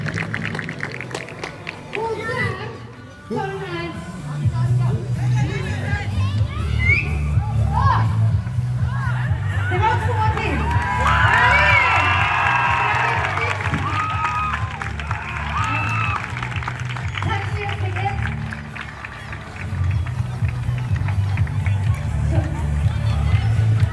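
Crowd at a school graduation in Sweden cheering and clapping, a loud, steady wash of voices and applause with children's voices in the mix, swelling toward the middle and continuing throughout.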